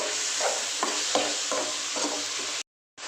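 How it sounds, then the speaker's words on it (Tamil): Chopped tomatoes sauté in a hot pan for goat intestine curry, giving a steady sizzle with several soft scraping stirs, close by, then cutting to a brief silence before the frying returns. "தக்காளி நல்லா வதங்கட்டும்."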